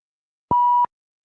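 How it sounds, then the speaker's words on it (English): A single steady electronic beep lasting about a third of a second, loud and clean against silence. "I heard a beep."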